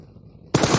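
Automatic gunfire in PUBG on the Erangel map erupts suddenly after a quiet stretch and keeps up as a dense, loud burst of rapid shots until the end.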